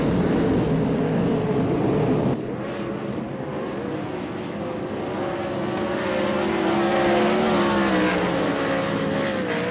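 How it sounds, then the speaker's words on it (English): Limited sprint cars race around the Ellenbrook Speedway dirt oval, engines roaring and revving continuously with rising and falling pitch as they pass, loud and steady with no talk. "Good run from the 84 as he starts to charge away from Jamie Langrigan."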